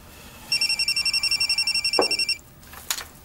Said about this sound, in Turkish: Aa, cebim çalıyor, pardon.